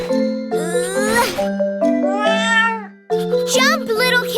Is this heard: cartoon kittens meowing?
yes